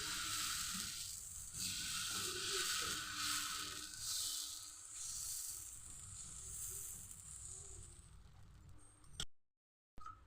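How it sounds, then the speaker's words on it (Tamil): Banana stem dosa batter sizzles loudly on a hot griddle, a close, steady hissing fry that fades slightly before cutting off near the end. "தோசைக்கல் சூடானதும் இப்போ மாவை தோசை ஊற்றிடலாம்"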